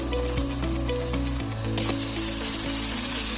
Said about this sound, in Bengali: আদাটা ভালো করে কষে নেব